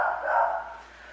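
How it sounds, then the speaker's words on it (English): A dog barking in the background during a home upper-body workout, one sustained bark or yelp that swells and then fades, somewhat muffled and set back from the microphone. "You might hear my dog barking in the background."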